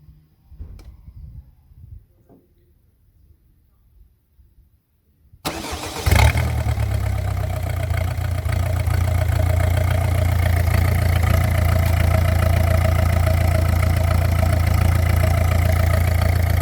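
A car with a 1.6 HDi diesel and a faulty high-pressure sensor sits quiet with faint handling noises, then cranks briefly and catches, settling into a loud, steady idle that stays close.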